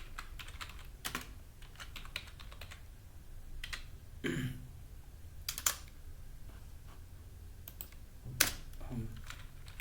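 Light, quiet typing on a computer keyboard while entering Python code, with sparse key clicks and a few louder isolated taps spread across a low, steady room hiss.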